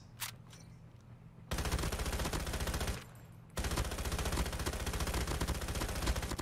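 Rapid automatic gunfire from new season 4 weapons in Call of Duty Mobile, a Makarov and OTs 9, in two long sustained bursts separated by a short pause, dense and loud with no talk.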